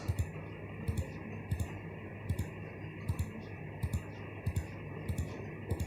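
A computer mouse clicks on browser tabs: about nine crisp, short clicks at a fairly regular pace over a constant faint electronic hum.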